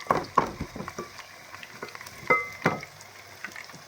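Garlic and coriander frying in a hot pan for a Lebanese dish, a soft steady sizzle broken by a few sharper crackling bursts, close and fairly quiet with no talk.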